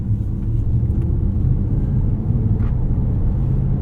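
2024 Mercedes-AMG GT 63 S E Performance 4-Door cruising gently through its 9-speed gearbox, heard from inside as a low, steady engine rumble with road noise and no talking.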